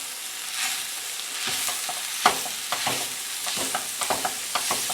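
Ground lamb browns in a pan with a constant close sizzle, broken by repeated scraping and knocking strokes as a utensil breaks up and stirs the meat; no one talks.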